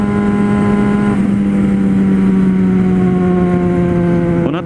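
A four-cylinder 2009 motorcycle roars loudly and steadily, its pitch holding then dropping slightly near the end, close and continuous with no talk.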